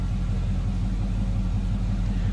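A Chevy V8 engine in a 1954 Chevrolet 3100 pickup street rod idles steadily, a low, even rumble with a smooth mid-range hum, continuous and close with no talking.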